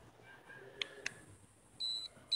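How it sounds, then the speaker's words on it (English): A Skyrider Falcon Pro quadcopter and its controller give short electronic beeps during binding: two quick faint chirps, then a longer steady tone and a brief final beep, in a quiet room. "All right, got two beeps, up, down."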